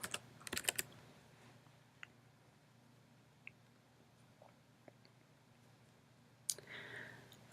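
A computer keyboard is typed on in short, soft bursts of clicks with quiet pauses between, close and faint with no talking.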